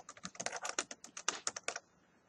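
Quick, steady keystrokes on a computer keyboard while text is entered into a presentation slide, close and fairly quiet, about a dozen crisp clicks before stopping, with no voices.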